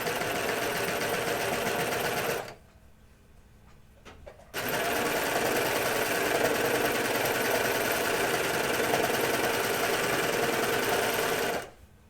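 A sewing machine stitches pants in a fast, even mechanical hum, running for a couple of seconds, pausing, then resuming for a long steady stretch before stopping.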